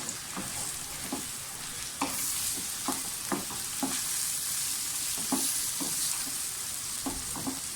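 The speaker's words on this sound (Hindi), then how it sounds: "थोड़ी सी भुनाई करें और साथ ही कीमा डाल दें।" Minced meat keema browns in a pan with cumin, a steady dense sizzle punctuated by regular spatula scrapes and stirs.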